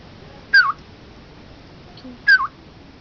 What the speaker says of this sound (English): The one which would call like this is called black hooded oriole.